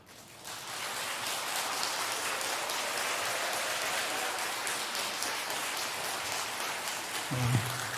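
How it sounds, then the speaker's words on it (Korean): A church audience applauds to welcome a guest lecturer giving a special talk on Christian leadership, a steady, dense patter of clapping sustained for the whole stretch after a brief rise. "큰 박수로 환영해 주시기 바랍니다"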